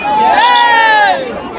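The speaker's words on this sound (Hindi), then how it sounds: "बहुत भीड़ है दोस्तों" Dense crowd at a temple in Vrindavan, a loud continuous hubbub of many voices with chanting or calling tones rising over the babble throughout.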